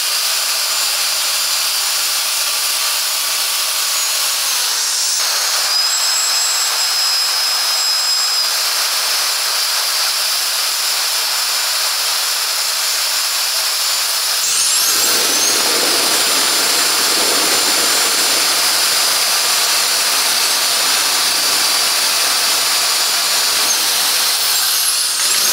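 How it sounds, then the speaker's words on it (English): Kica Jet Fan MAX blower running with a loud, steady high-pitched whine and rushing airflow, close up, with speed shifts around the middle that raise the pitch and add force, and no talking. "The Kica Jet Fan MAX packs a punch with its powerful and consistent airflow."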